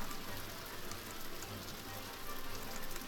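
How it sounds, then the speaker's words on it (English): Rain weather in the Stonehearth video game: a dense, even hiss of falling rain that runs steadily throughout, with no voices over it. "Rain."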